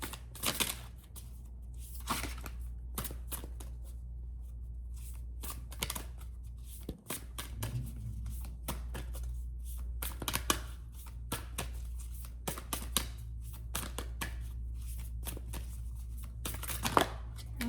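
Rumi oracle cards are shuffled by hand, close up, giving repeated quick papery riffles and slaps over a low steady hum.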